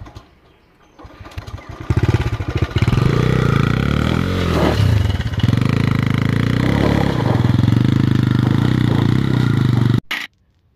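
A motorcycle engine starts up and runs loud and steady at close range for about eight seconds, then cuts off abruptly. It is heard near a hillside cave on rough, stony ground.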